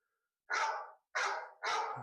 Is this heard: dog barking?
yes